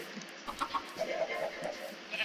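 Minecraft chickens cluck in short soft bursts, a few birds muttering at moderate distance over a quiet background.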